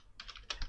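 Keys clatter on a computer keyboard in two short bursts of typing, near and fairly quiet, with no talking.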